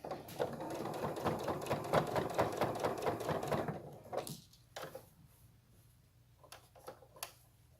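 A sewing machine stitches fabric in a fast, close whirring run for about four seconds, then stops, leaving faint handling clicks and fabric rustles.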